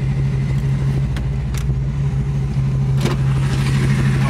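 A car engine idles steadily nearby, a constant low hum with a few faint clicks and knocks over it, left running with a freshly finished and mounted suspension.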